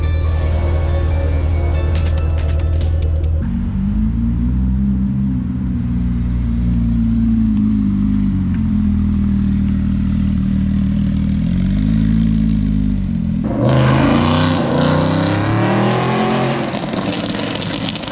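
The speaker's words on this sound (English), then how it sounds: "Give me a little rev." Cars rev and roar at a midnight street gathering in Miami: a loud sustained engine drone with rising and falling pitch, then a sharp, harsh burst of revving near the end.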